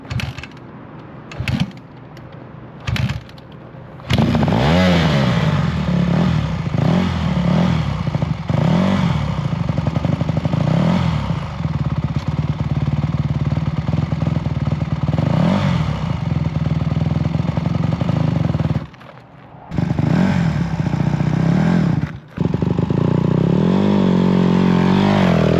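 A learner's motorbike engine runs steadily in second gear for most of the ride, loud and close, with mechanical clatter, a brief drop near the start and a short dip near the end, and no one talking.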